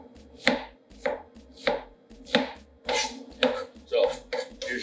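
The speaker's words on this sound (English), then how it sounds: "So, your red onions. We're going to quarter them, like so. Then, slice them up as fine as you can get them." A knife slices quartered red onions finely on a cutting board, producing about eight crisp, evenly spaced chops close up with no talking.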